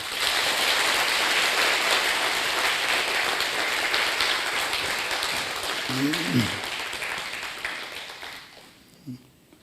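Church congregation at a Wednesday night worship service applauding in encouragement, a dense, steady wash of clapping that holds for several seconds, with a brief voice near the end as the applause thins out and fades.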